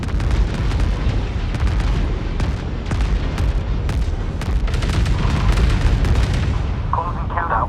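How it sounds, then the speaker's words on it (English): A destroyed enemy capital ship in the space strategy game Homeworld 3 erupts in a continuous, loud barrage of booming explosions and artillery-like blasts, with a faint voice under the din. "Enemy capital ship destroyed."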